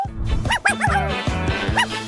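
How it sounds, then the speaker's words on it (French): A dog barks and yips in several quick, loud, close bursts over about two seconds, with a brief whimpering tone mixed in. "Regardez, le chien."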